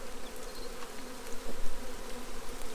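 Honeybees swarm around an open hive, making a dense, continuous buzz with individual bees droning closer and louder as they pass, and no talk.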